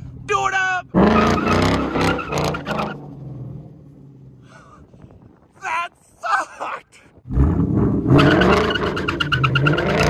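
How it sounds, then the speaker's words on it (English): A purple 2022 Ford Mustang GT does a burnout, its engine roaring loud and close with squealing tires. The noise drops away briefly midway, then resumes with a sharp burst before swelling again. "gotta get out for the burnout."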